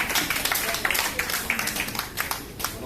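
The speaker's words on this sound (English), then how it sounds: "Round of applause," An audience at a candidates' forum applauds in a steady patter of many hands, moderately loud, for a few seconds.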